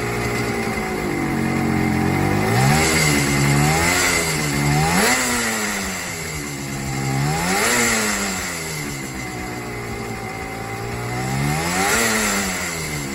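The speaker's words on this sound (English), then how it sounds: "Powered by a 247cc two-stroke twin engine, the T20 delivered impressive speed and agility" A Suzuki T20 Super 6 motorcycle with a 247cc two-stroke twin engine revs repeatedly, its pitch rising and falling in steady waves, loud and close with no talk.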